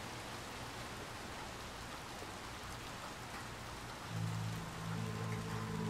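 Steady rain hissing softly in the background of the video game Lil Nightmares 2, with a low droning hum that comes in near the end.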